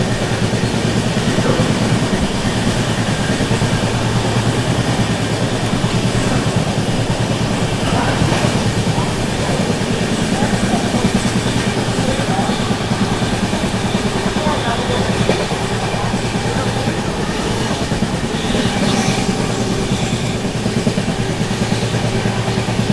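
The 15658 Brahmaputra Mail passing Vindhyachal station at speed without stopping, a loud, continuous rush of wheels and carriages with a steady rumble throughout and no pause.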